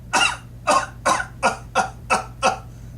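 A person coughs in a rapid, close series of about eight harsh, even-spaced bursts, alone without talk.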